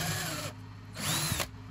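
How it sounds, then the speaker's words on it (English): Power drill boring a small hole into a wooden template, close and loud, the motor whining in short bursts with pitch shifting as it bites and eases off. "you can put the point right on the mark where you want the drill to go in"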